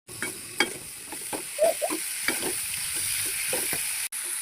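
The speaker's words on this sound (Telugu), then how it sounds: "వంకాయలు వేస్తున్నా." Eggplant pieces sizzle and fry in a hot pan with green chilies and turmeric, a spoon scraping and stirring them in repeated irregular strokes over a steady hiss, close and fairly loud.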